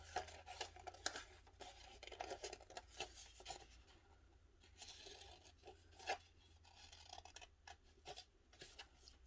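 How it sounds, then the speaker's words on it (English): Scissors snip and rasp through paper, trimming it into a grass shape for a pop-up groundhog puppet, in a quiet, irregular run of close cuts and rustles. "I'm just making some grass shape, just trimming it up like that"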